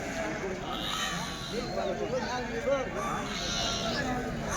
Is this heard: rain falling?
no